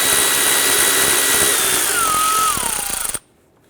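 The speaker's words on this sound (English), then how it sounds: "And remove our 10mm bolt in the back here." A power tool spins out a 10mm bolt on a 2001-2005 Honda Civic during crankshaft seal work: a loud, steady, close whir whose pitch sags near the end before it cuts off abruptly into quiet.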